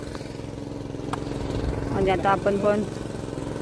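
A tractor engine runs with a steady, even drone while a muddy paddy field is prepared on a Konkan farm, someone talking over it throughout.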